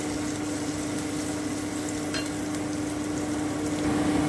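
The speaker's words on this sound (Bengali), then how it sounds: "আমি খুব ভালো করে ভেজে নিচ্ছি" Finely chopped onion frying in a pan for dahi chicken: a continuous close sizzle with the odd faint stir, steady throughout, with no talk.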